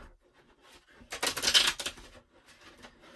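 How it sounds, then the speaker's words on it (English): Tarot cards are shuffled clumsily, giving one short, loud flurry of papery riffling and clattering that lasts under a second and is surrounded by quiet. "That was an epic shuffle fail."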